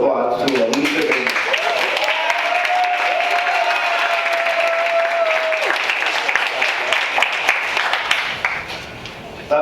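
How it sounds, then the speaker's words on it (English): Applause for an award recipient at a family banquet, a sustained wash of clapping from the crowd that fades near the end, with a tonal sound and background voices mixed in. "Let's give a big round of applause to Alicia Bingham."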